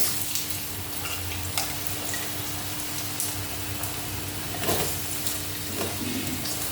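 Potatoes dropped into hot oil crackle and sizzle with a dense, steady spitting hiss and scattered pops, close and continuous throughout.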